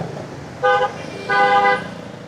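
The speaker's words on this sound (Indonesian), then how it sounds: "Lalu lintas keramaian di Ho Chi Minh City ini padat sekali teman-teman" Two loud car horn blasts, one short and one longer, cut through busy city traffic in Ho Chi Minh City, with the rumble of nearby vehicles underneath.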